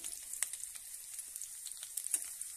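Mango pieces frying in a pan for mango curry, a faint, steady sizzle with soft crackling pops, close and quiet with no voices.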